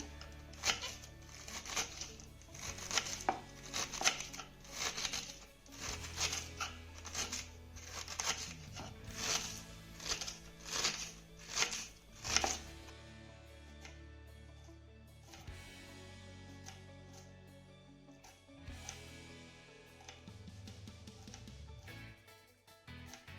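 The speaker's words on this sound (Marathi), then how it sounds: "हा कोबी ना बारीक चिरून घेऊया" Cabbage finely chopped with a knife, a rapid, regular run of sharp close cuts on a board for about twelve seconds, then quieter handling and rustling of the shredded leaves.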